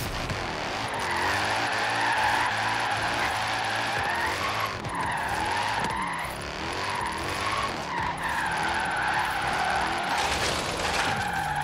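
A small roadster in Forza Horizon 3 drifts at a steep angle, its tires squealing in long wavering tones over a steady engine drone, close and continuous with no voices.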